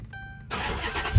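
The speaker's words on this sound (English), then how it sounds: "So let's turn on the engine and see what happens." A car engine cranks and catches after a quiet stretch, settling into a steady idle close by, with a louder low thump at the end; no one talks.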